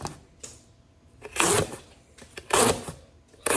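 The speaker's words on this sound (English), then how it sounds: "I'm going to cut another 20 feet of cardboard just because this thing has not stopped yet." Cardboard being sliced with a Civivi Qubit folding knife, heard as a few irregular, close scratchy rasping bursts separated by quiet pauses.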